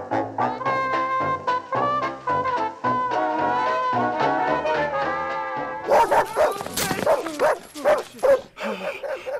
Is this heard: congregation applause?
no